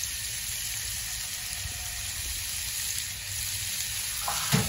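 Garlic shrimp (camarones al mojo de ajo) frying in a pan, giving a steady, close sizzle that carries evenly throughout, with a brief louder clatter near the end.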